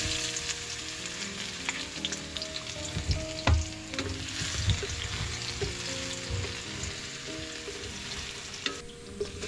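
Onions fry in a pan at an outdoor kitchen beside a kubo in rice fields, a steady close sizzle with light stirring scrapes and a few clinks throughout.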